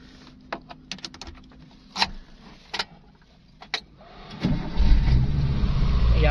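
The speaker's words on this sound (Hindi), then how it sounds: "आइए अब आपको गाड़ी को स्टार्ट करके मैं दिखा देता हूँ।" DFSK Humsafar car engine starting up: several sharp clicks and taps first, then a short cranking burst that settles into a loud, close, steady idle.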